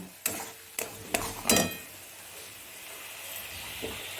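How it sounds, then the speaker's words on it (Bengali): Spice paste being fried and stirred in a pan for a fish chilli dish, a few sharp scrapes and clanks of the spoon against the pan over a soft, low sizzle that settles into quiet hissing. "গ্যাসটা কমিয়ে এবারে কষতে লাগলাম"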